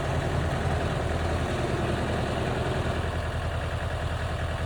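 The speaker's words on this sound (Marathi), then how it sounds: "तो आमचा छोटा ट्रॅक्टर." A small tractor engine idles steadily nearby in an orange orchard, a continuous low rumbling drone with a faint rhythmic throb and no voices.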